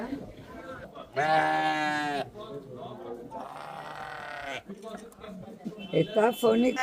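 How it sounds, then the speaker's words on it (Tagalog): Several goats bleat loudly up close in long wavering cries, one after another, with people talking and calling in the background, in Cape Verde. "Dami nilang kambing dito."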